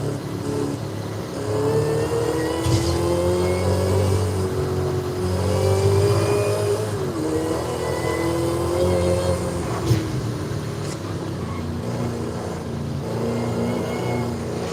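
Car engine in Forza Horizon 5 driven with a manual clutch and six-speed shifter, a steady mid-pitched drone that rises and falls in pitch as the car repeatedly shifts gears and revs through a cruise.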